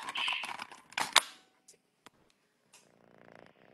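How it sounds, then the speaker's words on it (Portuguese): Soft, close purring from a young cat, a low rumbling texture rising in the last second after a stretch of faint handling noises and quiet pauses. "É um ronron do bebê."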